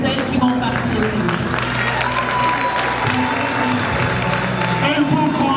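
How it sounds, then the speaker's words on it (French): Crowd applause for the Miss Guinée 2019 contestants, sustained loud clapping and cheering filling a hall throughout, with voices mixed in. "Un tonnerre d'applaudissements pour celles qui vont participer."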